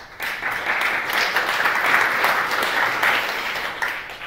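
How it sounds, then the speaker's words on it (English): A conference audience claps as a speaker is introduced, a continuous wash of applause holding steady and fairly loud before tapering slightly at the end. "It's nice to get the applause in the beginning."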